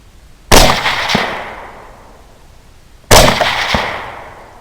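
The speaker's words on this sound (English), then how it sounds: "I'm going to give some quality assurance shots right here." Two loud rifle shots fired outdoors at wild hogs, spaced about two and a half seconds apart, each a sharp crack followed by a long echoing decay across open ground.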